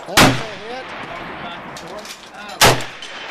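A Hungarian AMD-65 rifle fires two loud, sharp shots about two and a half seconds apart at an outdoor range, each cracking out and echoing briefly over quiet background noise.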